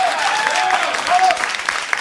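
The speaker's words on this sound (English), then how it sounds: "They are applauding a statistic." Dense, steady applause fills a Fox news studio as the audience claps continuously, close and fairly loud, with a brief tonal whistle partway through.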